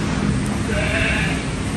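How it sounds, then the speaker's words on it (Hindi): A goat on a farm lets out a loud, close, drawn-out bleat, a single wavering cry lasting nearly two seconds. "और एक इधर ये जो बकरी है"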